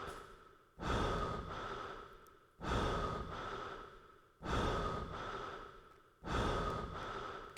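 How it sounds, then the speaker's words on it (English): Slow, heavy breathing in a room from the 1995 PC puzzle game Shivers: four long, loud breaths about two seconds apart, each a sharp noisy intake fading away, with no talk over them. "This is just heavy breathing room."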